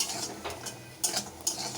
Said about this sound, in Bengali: বড়িগুলো লাল লাল করে ভাজবো